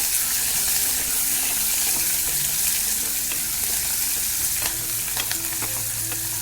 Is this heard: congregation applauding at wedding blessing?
no